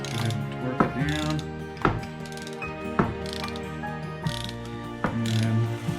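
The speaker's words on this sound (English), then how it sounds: "So I've got my torque wrench already dialed in. Let's go ahead and torque it down." Torque wrench ratcheting while tightening a bolt during elevator assembly, a run of spaced ratchet clicks and strokes over sustained tonal background hum, no speech.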